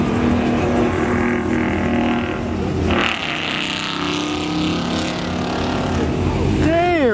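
A loud street-race car engine, Hellcat against a C6, roars nearby with a rough droning idle, then surges in revs near the end, while people talk over it.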